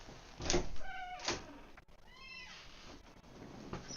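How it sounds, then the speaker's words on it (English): A house cat meows repeatedly at a door, wanting to be let out, with two drawn-out cries followed by a longer wavering yowl and a fainter call, close by in a quiet room. "let me let my cat out."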